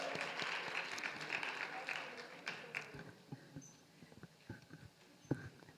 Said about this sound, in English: Let's give all of our awardees another round of applause.